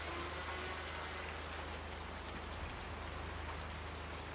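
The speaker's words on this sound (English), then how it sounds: "even though it's raining" Steady rain falls across a farm in Farming Simulator 19, a dense, even hiss of drops on surfaces that holds unbroken throughout with no talk.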